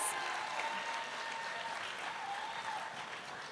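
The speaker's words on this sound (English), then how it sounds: "Let's give her a round of applause, guys." Audience applause at a high school gala, a dense, even patter of clapping that holds steady for a few seconds at moderate, slightly distant volume.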